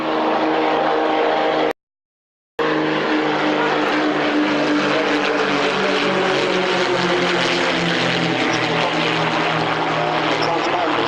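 A two-seat advanced competition aerobatic plane, an Extra, flies at the 1994 RIAT Fairford air show, its propeller engine droning loud and steady, with a sharp cut partway through, and commentary voices faintly under it.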